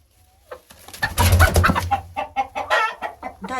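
A hen clucks beside her nest of eggs in a backyard coop, giving a close, loud series of rapid, throaty clucks and squawks in short bursts after a quiet start.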